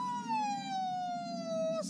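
A voice imitates a police siren, holding one steady wailing tone that slowly falls in pitch for about two seconds, close and fairly loud against a faint background murmur, in a dubbed comedy film.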